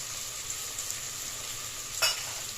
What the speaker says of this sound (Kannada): ಎಲ್ಲದನ್ನು ಚೆನ್ನಾಗಿ ಫ್ರೈ ಮಾಡ್ಕೊಳ್ಳಿ